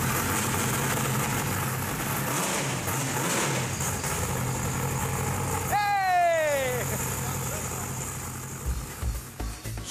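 The engine of a Ford GT40 replica runs with a steady mid-level rumble, joined by a short sliding whine partway through and some uneven clatter near the end.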